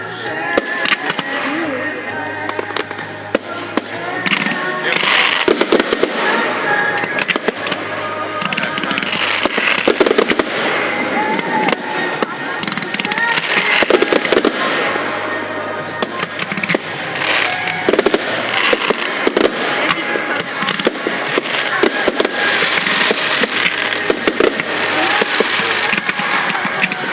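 Bonfire Night fireworks burst and crackle continuously, a loud outdoor barrage of bangs, pops and fizzing sparks with no pause, some rumble in the background.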